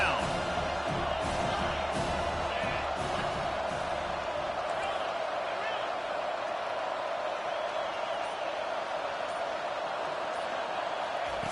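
Home crowd in an NCAA college football video game, a steady roaring stadium crowd noise filling the background throughout, with commentary speech over it.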